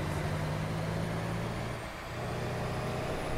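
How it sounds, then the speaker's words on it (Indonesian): A heavy Dylan truck labouring up a steep hill at Sitinjau Lauik, its engine droning loud and close with a low steady rumble that dips briefly in the middle, with no voices. "ini dia truk Dilan-nya guys"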